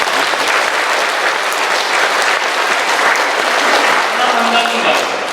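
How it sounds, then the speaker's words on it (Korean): Korean Catholic congregation at Mass breaking into sustained, dense applause, loud and even from start to finish, a broad wash of many hands clapping together. "그럴듯한 박수 한번 치세요."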